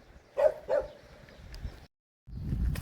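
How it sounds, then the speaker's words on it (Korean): Yellow and white dogs in a rural countryside village give two short barks, distant and faint, followed by outdoor rumble and wind. "황구 백구는 아, 저를 보고 짖네요"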